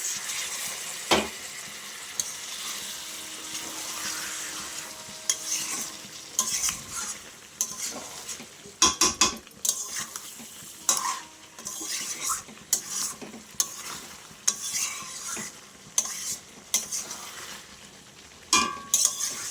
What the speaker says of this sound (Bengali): অল্প করে একটু জল দিলাম দিয়ে ভালো করে মিশিয়ে নিলাম